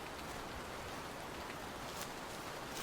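Rain shower falling in a forest, heard as a dense, even hiss of drops that stays steady and moderately loud throughout, with no voices.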